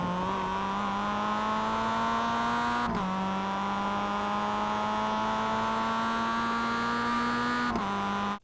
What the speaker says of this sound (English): Be mindful when you engage the throttle and listen to the car.